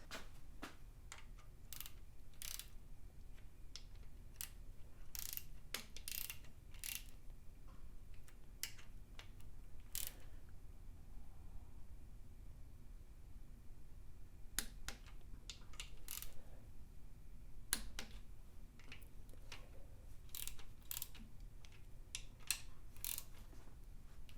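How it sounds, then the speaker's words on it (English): An Eastwood torque wrench tightens engine bolts to 15 foot-pounds on a Chevelle LS turbo build, producing sharp, irregular ratcheting clicks in quick clusters separated by pauses, close by and without talk. "first step is to torque them to 15 foot-pounds. I'm using my new torque wrenches from Eastwood"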